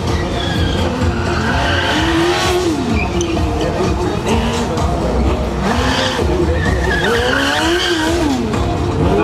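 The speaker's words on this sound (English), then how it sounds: "Nice big drift in there" A drift car slides through a competition run, tires skidding and squealing loudly with rising and falling engine revs and crowd noise throughout.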